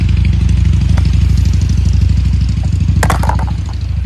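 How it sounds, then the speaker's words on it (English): A Harley-Davidson motorcycle rumbles past on a nearby road, a loud, steady low engine throb with rapid firing pulses that slowly fades as it moves off, with some brief clatter near the end. "There goes some guy down the road on a Harley teasing me"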